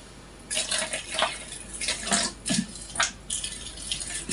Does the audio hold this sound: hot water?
yes